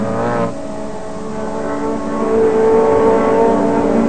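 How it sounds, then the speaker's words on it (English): A Ford Sierra Cosworth RS500 touring race car in a BTCC race at Brands Hatch, its engine note loud and sustained, dropping briefly then rising again as it accelerates past. "Soper in the red and black Ford Sierra Cosworth is attacking the race leader Andy Rouse"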